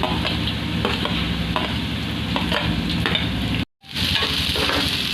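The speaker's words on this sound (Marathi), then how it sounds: "आता यामध्ये घालूया कांदा, नंतर घालणार आहोत मिरची" Chopped onion and green chilies stirred and fried in a pan, a loud close sizzle with repeated scraping stirring strokes, briefly cut to silence before resuming, no talk.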